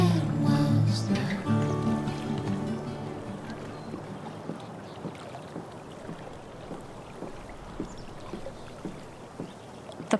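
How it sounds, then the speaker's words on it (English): A kayak is paddled in Life is Strange True Colors: soft splashes of paddle strokes in water at a steady rhythm under a gentle outdoor ambience, following a brief fading stretch of music at the start. "If not for the paddling, kayaking would be super relaxing."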